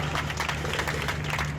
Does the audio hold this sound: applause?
yes